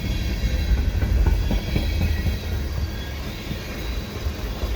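A CP westbound freight train rolls past Cedar Park EXO station on a calm, freezing winter day with fresh snow, a continuous low rumble with faint wheel clatter on the rails, steady and fairly close.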